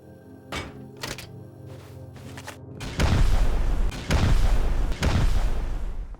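Heavy booming impacts in Rust, a few sharp thuds then a loud sustained crashing barrage with three big blasts close together as rockets break a small base wall.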